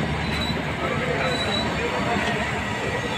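Nilachal Express 12875 pulls out of Kanpur Central railway station, a steady dense rumble of rolling wagons with faint wheel squeal, close and continuous throughout.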